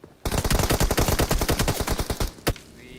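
Rapid automatic gunfire in a video game rattles out in a dense, even burst lasting over two seconds, loud and close, then one final sharp shot after a brief pause.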